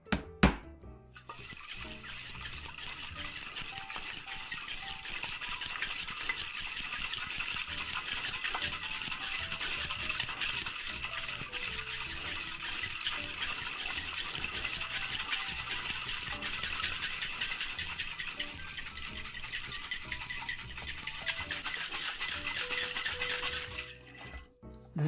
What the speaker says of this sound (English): And then we need to dry shake this.